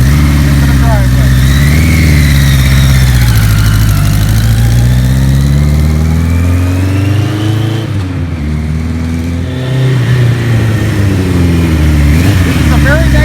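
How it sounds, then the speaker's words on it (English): A 1973 Kawasaki Z1 900 motorcycle engine idles loudly and steadily up close, holding a low, even, slow-paced rumble with slight pitch shifts throughout, with no speech over it. "This is a very nicely tuned motor."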